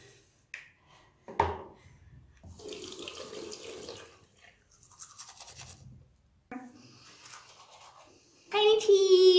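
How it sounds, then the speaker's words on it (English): Toothbrush scrubbing with Sensodyne at a bathroom sink, interrupted by someone speaking and an adult voice, before the tap turns on and water runs loudly near the end. "I'm gonna wash my teeth using Sensodyne."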